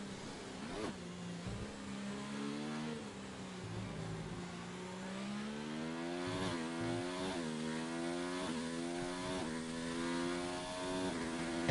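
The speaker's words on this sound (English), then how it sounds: "Are you hearing the engines alright compared to me and Pier" Racing car engines drone and rise in pitch through repeated gear shifts in a racing video game, a steady loud whine of several engines with no talk.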